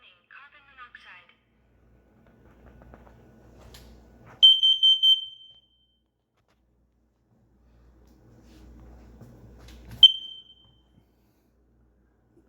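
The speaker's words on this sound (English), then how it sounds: "Warning, carbon monoxide." Combination smoke and carbon monoxide alarm giving a short burst of rapid, shrill beeps, then a single beep several seconds later, with faint low rumbling between them.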